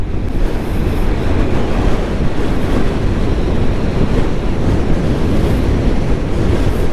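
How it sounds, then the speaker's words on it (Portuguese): Strong wind buffeting a motorcycle rider in the Andes, a loud, constant roaring rush of air over the microphone, broadband and unbroken throughout, with no speech. "E caraca, meu, muito vento."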